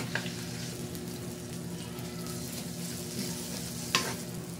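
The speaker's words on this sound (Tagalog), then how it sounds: "Gisa na po natin ang bawang" Garlic, onion and ginger sauté in oil for Ilocano pakbet, giving a steady soft sizzle with a low hum beneath and one or two brief scraping clinks, and no talking.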